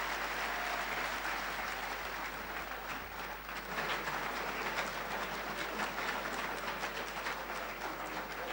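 Sustained applause from a lecture audience honouring Ghana's Vice President Dr. Mahamudu Bawumia at an advancement lecture series, a steady, dense wash of clapping filling the hall throughout without a break.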